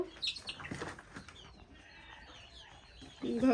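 Chickens on a farm flap their wings and cluck nearby, quiet rustling and brief squawks with a louder burst of clucking at the end.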